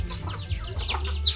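Chickens cluck in a string of quick, close calls over a low background rumble, with one sharper cry near the end.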